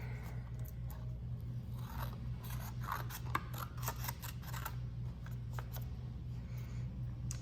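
Scissors trim the thicker bottom edge of a Polaroid photo with a series of quiet, close snips and soft scraping cuts, spaced irregularly over a faint steady hum.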